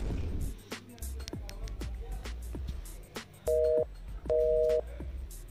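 Two steady electronic phone tones sound over a busy, clattering background, each lasting about a third of a second.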